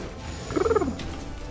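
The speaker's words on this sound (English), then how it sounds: "My cat is currently, like, nuzzling her head against my hand, and purring." A pet cat purring briefly while nuzzling a hand, a soft rhythmic rumble rising close by for about half a second, with no talking.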